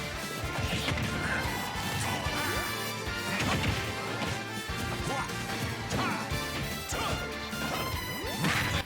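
Forward smash attacks trade blows in a Super Smash Bros. Ultimate match between Falco and Wario, heard as repeated loud crashing impacts and thwacks over a dense, continuous wash of game music and crowd noise.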